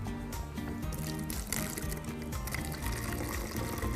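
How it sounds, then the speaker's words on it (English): Hydrogen peroxide is poured through a funnel into a bottle in a science demonstration, a soft continuous liquid trickle with faint gurgles, quiet and steady. "I'm going to pour some of this hydrogen peroxide into the bottle"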